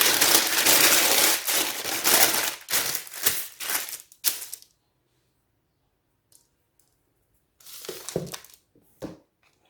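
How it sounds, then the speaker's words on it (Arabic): A cookie cutter presses through whole-wheat, eggless biscuit dough laid on baking paper, giving a run of crisp crunching and crackling cuts, then a silent pause and a few more short pressing sounds. "غنقطعو انا بالمرشم هكا مربع"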